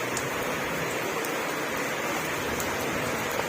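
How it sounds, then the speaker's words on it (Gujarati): Heavy rain pours down outside a shop, a dense, constant hiss of drops striking surfaces close by, steady and loud without a break. "બહુ બધો વરસાદ પડે છે જુઓ"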